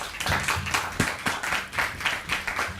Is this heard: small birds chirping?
no